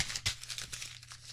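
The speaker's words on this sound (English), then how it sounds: "I promised to crumple things up." Paper or plastic being crumpled up by hand, a burst of close crinkling and tearing rustles with a sharp crunch early on, then softer irregular crackles over a low steady hum.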